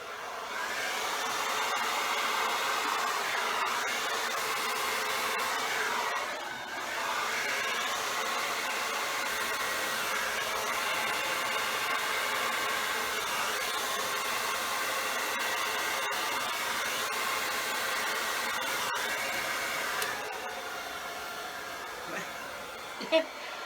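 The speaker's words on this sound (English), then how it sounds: "Fighting with the hair dryer today." A hair dryer blows steadily and loudly for the whole stretch, with a brief dip partway through and a small knock near the end.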